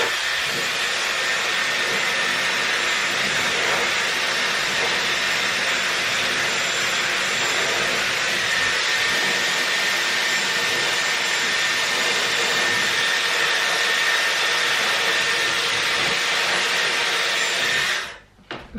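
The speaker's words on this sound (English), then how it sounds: "I've dried most of the roots as you're supposed to with this attachment, the hairdryer attachment" A steady, loud rushing blow of a hair dryer with an attachment, drying hair roots, running continuously up close, cutting off abruptly near the end.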